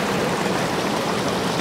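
Mountain stream water from the Shivapuri hills flowing past a rainbow trout fish farm, giving a steady, close rushing wash with no breaks and no voices.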